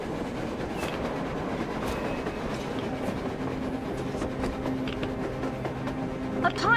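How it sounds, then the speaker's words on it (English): A train rolls past on the surface in the video game Metro Exodus, a steady, loud rumble with faint clickety-clack and metallic squeal that swells slightly at the end, with no talking over it. "A train! A damn train on the surface!"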